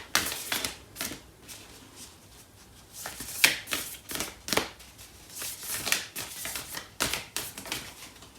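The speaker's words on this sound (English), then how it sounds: "I'm going to pull out a card for the other person in this connection now." Tarot cards riffled and slid against each other during a reading, quiet papery flicks and snaps coming in irregular bursts close to the ear, with no talking.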